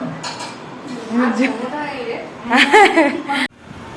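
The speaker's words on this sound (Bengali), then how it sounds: "বৌদি এটা জোরে জোরে খুন্তি চালা" A metal spatula scraping and clinking vigorously in a cooking pot at a Behala Durga Puja pandal during Ashtami, close and lively, with people chatting and laughing over it.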